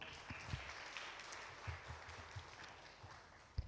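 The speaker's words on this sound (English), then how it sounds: "Everyone, a big round of applause for Professor Nora Colton." Audience applause for Professor Nora Colton at an academic panel discussion: faint, scattered clapping heard at a distance in a hall.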